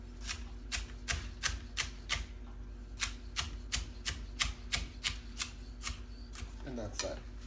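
A knife chops vegetables for homemade chicken soup on a cutting board, giving a steady run of sharp, evenly spaced knocks. The chopping is close and loud and continues for several seconds before a brief softer rustle.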